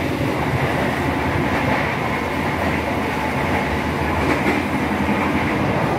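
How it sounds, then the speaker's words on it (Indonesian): The Tegal Bahari passenger train in Indonesia rumbles steadily along the rails after leaving Babakan station, a continuous loud roar with faint rhythmic clatter from the wheels throughout. "perjalanan kereta api Tegal Bahari sudah meninggalkan stasiun Babakan"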